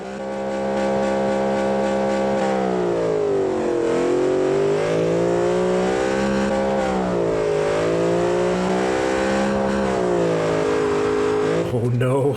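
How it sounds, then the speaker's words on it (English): A twin compound turbo Yugo with front-wheel drive in the BeamNG driving game, its engine holding a loud, steady high-revving drone that sweeps up and down in pitch continuously for the whole stretch before cutting out abruptly at the end. "You can tell this engine has more in it too."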